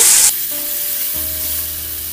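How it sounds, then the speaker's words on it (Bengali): Spice paste for aloo dum drops into hot oil, setting off a loud, sharp sizzle that quickly settles into a quieter, steady bubbling fry. "এবার মশলার পেস্টটা আমি এটা দিয়ে দেব।"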